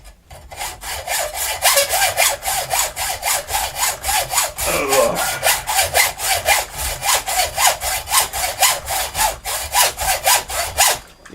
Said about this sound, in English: the way this hacksaw is making enough noise